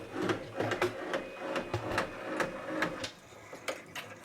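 A Brother 10-needle embroidery machine stitches a quilt label with a quick, fairly quiet, rhythmic mechanical clatter of repeated needle strokes, heard up close and alone.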